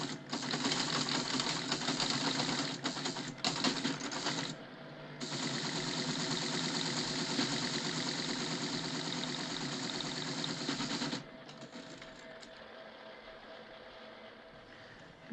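A 1960s television-series computer runs a search with a loud, continuous mechanical whirring and chattering drone that stops briefly, resumes, then drops to a quieter hum near the end.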